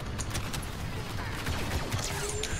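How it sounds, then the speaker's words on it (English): Blaster fire in Star Wars Battlefront II crackles through a busy battle, a steady wash of rapid shots and zipping bolts at moderate loudness with no clear pauses. "I'm gonna shoot him"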